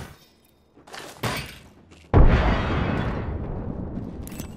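A frag grenade in Apex Legends lands with a couple of dull thuds and then bursts in one loud, close explosion whose rumbling tail fades over several seconds.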